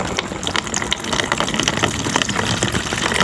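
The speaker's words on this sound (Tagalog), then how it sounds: "Lagyan natin tubig." Water poured into a cooking vessel at an outdoor cookout in an abandoned subdivision, a loud, close, continuous gushing splash that swells slightly toward the end, with no talking.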